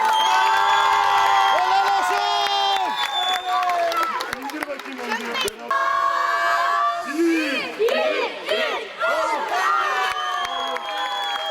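A crowd cheers, whoops and applauds at an outdoor trophy ceremony for a champion children's football team at a youth tournament final, lively and continuous, with excited children's shouts and voices throughout.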